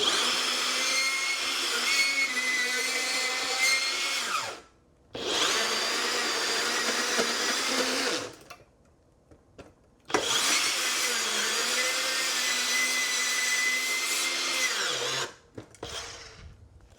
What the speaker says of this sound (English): So I'm going to see how it cuts through galvanized hopefully pretty easily.